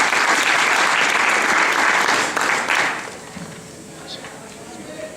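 An audience applauds a student's award with loud, dense clapping that fills the first three seconds, then tapers off quickly into near silence.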